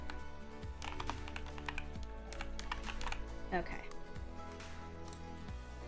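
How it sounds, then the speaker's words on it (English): A computer keyboard is tapped in quick, uneven bursts of close keystrokes during a live stream, sitting beneath steady low background hum and music. "I'm slow at typing this out"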